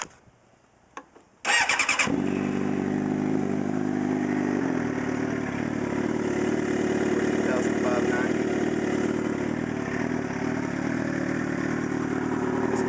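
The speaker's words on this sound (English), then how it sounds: "This bike is very loud. Custom shorty exhaust, it makes a noise, that's for sure." A 2007 Suzuki GSX-R sport motorcycle with a custom shorty exhaust starts with a sharp burst and settles into a loud, steady, throaty exhaust rumble that stays close and continuous.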